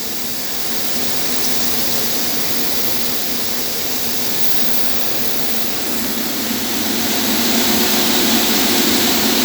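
A soybean seeder runs during calibration, a loud, dense mechanical roar with a constant low drone. It holds steady throughout, building slightly toward the end, and nobody speaks.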